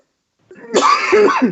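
A single harsh cough, close and loud, after a brief moment of silence, ending with a throaty rasp.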